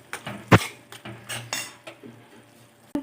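A metal spoon stirs tomato egg curry in a pan, sharp clinks and scrapes against the pan in an irregular rhythm, close and fairly loud, with no talking.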